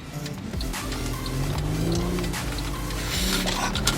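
Mercedes with a Pedal Commander throttle controller revving up after a quick throttle tap, a close, steady engine drone with rising pitch inside the cabin, sustained without pause.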